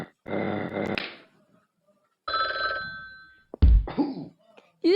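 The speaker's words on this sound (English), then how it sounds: "You didn't get to pick up the phone, Ben." Toy-like telephone bell rings in short bursts separated by silence, with a growling dog noise in between, loud and close.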